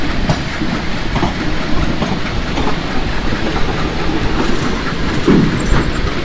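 An Indian Railways express train in the Open Rails simulator rolls along steadily, with continuous rumbling wheel noise, rhythmic clickety-clack over rail joints and a faint wheel squeal near the end.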